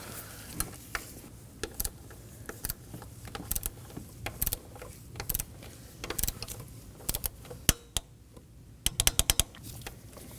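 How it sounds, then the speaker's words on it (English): Sharp metallic clicks and clinks from a torque wrench snugging 10mm valve cover bolts to 62 inch-pounds on a 2015-2023 Nissan Maxima 3.5L V6, scattered across the span with a denser burst near the end, close and fairly quiet. "Now we're going to torque this down to 62 inch-pounds."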